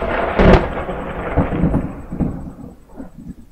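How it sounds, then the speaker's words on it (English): Thunder from a storm with lightning rumbles up in a sharp, loud crack and then fades into a low, rolling tail, with no voices over it. "Take that, lightning. Whoa, hail."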